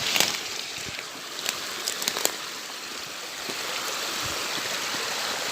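Steady babbling of water flowing in a small stream, continuous and fairly close, with a few faint clicks and knocks.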